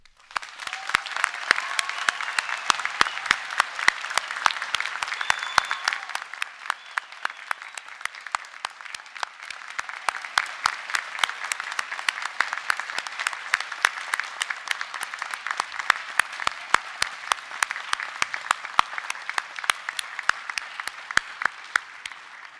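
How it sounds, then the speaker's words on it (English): A large audience applauds new University of Salford graduates at a winter graduation ceremony, with sustained clapping that carries on steadily for over twenty seconds, individual claps sharp and distinct within the crowd. "Please can I ask you to join me in a round of applause for them."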